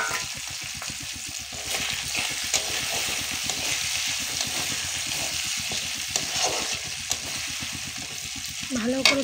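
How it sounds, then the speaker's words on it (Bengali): Chopped tomatoes frying and being stirred in a pan for a home-style egg curry, a steady, dense sizzle with continuous scraping and stirring throughout, close and fairly loud. "ভালো করে টমেটো দিয়ে কষিয়ে নেব।"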